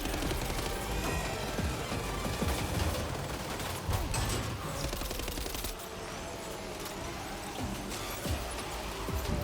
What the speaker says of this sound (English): I didn't know I could shoot while driving.